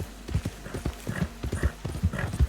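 Horse hooves clip-clopping at a steady trot in Red Dead Redemption 2, close and clear, with a brief whinny, a low hum underneath and faint background speech.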